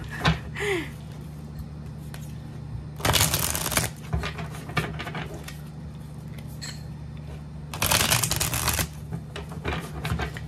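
Tarot cards are shuffled in two quick riffling bursts, crisp flutters of paper separated by a quiet, humming room.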